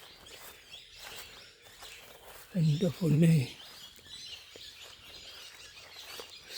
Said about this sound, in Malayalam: so many birds